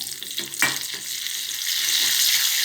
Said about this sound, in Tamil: இப்போது நெய் காஞ்சிடுச்சு நான் வந்து மிளகு சீரகம் நல்லா பொறிச்சு எடுத்துக்கிறேன்